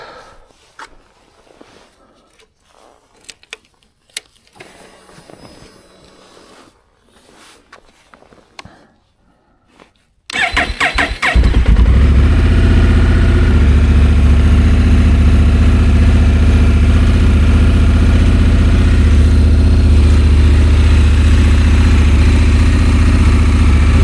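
A 2024 Honda Africa Twin DCT motorcycle fires up after a few quiet seconds of faint movement, then settles into a loud, steady, close idle that continues to the end.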